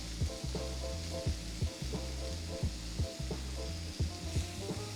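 Steak sizzling and frying loudly in a pan, with repeated clicks and scrapes of tongs as the meat is flipped, a steady hiss under irregular sharp taps.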